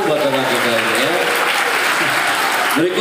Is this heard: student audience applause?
yes